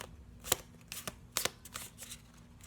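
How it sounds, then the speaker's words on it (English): A large Starman tarot deck with long cards is shuffled by hand, giving a few sharp riffling bursts and softer card slaps in a quiet room, with nobody speaking. "I want to do a quick shuffle of this deck just so that I can see"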